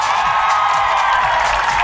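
A studio audience cheers and applauds for a singer on a televised music show, a steady dense wash of clapping and whoops sustained throughout at high level.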